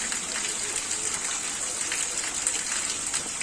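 Rain pouring down in a rural village, a constant broadband wash of falling water with faint patter on surfaces, steady and unbroken from start to end.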